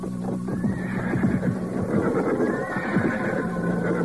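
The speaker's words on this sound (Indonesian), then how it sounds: "Dari balik rumah mereka melihat ke arah rombongan berkuda itu." Horses ridden by a group of riders, with a clear close whinny and rapid overlapping clip-clop of hooves moving together.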